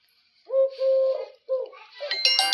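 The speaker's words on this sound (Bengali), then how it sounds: "ডাকগুলো শুনেন, মোটা গলার পাখি।" Deep-voiced turtle doves give a few low coos in short bursts, close and clear, with bright chirps and other bird calls crowding in near the end.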